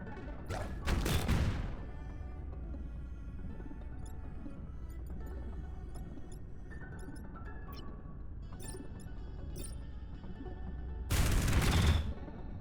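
A missile barrage is fired in the video game Into the Breach as two loud bursts of rapid explosive impacts, one near the start and one near the end, separated by quieter game ambience with small metallic clinks.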